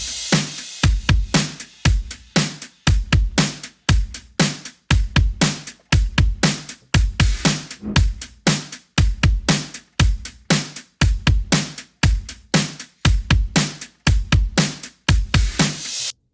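Punchy chorus drum loop built from samples in an Ableton production, with steady kick-and-snare hits about twice a second and bright hi-hat sizzle on top, loud and alone with no voices.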